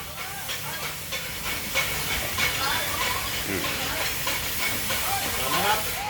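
Nitrogen hisses steadily into a car tire at a filling station, a continuous broadband rush with faint rhythmic clicking running the whole time, fairly close and even in level.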